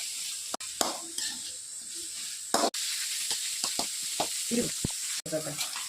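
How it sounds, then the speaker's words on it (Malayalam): Chopped tomatoes and onions sautéing in a pan make a continuous soft hissing sizzle with occasional stirring knocks, while a person talks intermittently over it. "തക്കാളിയും ഉള്ളിയും കൂടെ നന്നായിട്ട് വഴറ്റുക"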